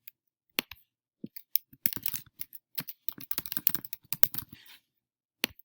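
An email address and password are typed on a computer keyboard: bursts of crisp, close key clicks, sparse at first and then quick and dense, ending with a final isolated tap.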